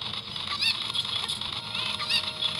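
Cucco chickens squawk in Zelda: Ocarina of Time, a few shrill, honking cries popping up over a steady game background hum, close and moderately loud with no talk.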